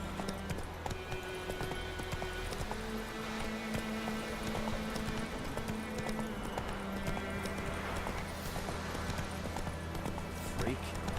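Horse hooves clip-clop at a steady galloping rhythm in The Witcher 3 video game, close and continuous under layered music and game ambience, with a voice speaking briefly.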